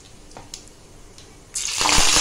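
Cumin seeds, with mustard seeds, drop into two ladles of hot oil in a kadhai on the gas for tempering. A few faint ticks give way to a sudden loud, hissing sizzle that keeps building.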